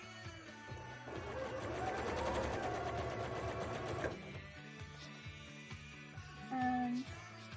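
A sewing machine top-stitches a bra, its needle hammering in a fast steady run for about four seconds, then slowing into shorter bursts, loud and close with no speech.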